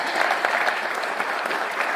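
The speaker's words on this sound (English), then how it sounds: "everybody, one more round of applause" A room of people applauds youth participants at a Kenosha County Board meeting, a steady, even wash of clapping throughout with a faint murmur of voices underneath.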